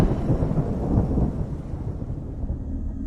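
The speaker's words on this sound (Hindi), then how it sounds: "एक तेज बिजली की आवाज हुई" Loud, heavy thunder rumbles continuously, a deep rolling roar that eases slightly toward the end, with hints of rain.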